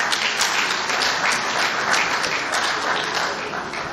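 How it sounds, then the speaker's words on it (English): Sustained, even clapping from an audience at the opening ceremony gathering of an agricultural engineering institution, applauding their chairman, a steady wash of many hands with no talk over it. "if that is how you clap for your chairman"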